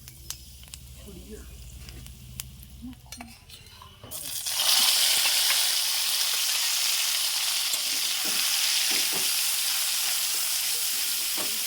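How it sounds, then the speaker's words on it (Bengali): Black cumin seeds and dried red chilies hit smoking-hot mustard oil partway through, setting off a sudden, loud, steady sizzle close by. A person talks during the quieter moments before it, and faint clinks follow. "তেলটা গরম হয়ে গেছে, ধোয়া উঠছে। এর মধ্যে দিয়ে দেবো আমি এই যে কালো জিরে আর দুটো শুকনো ঝাল।"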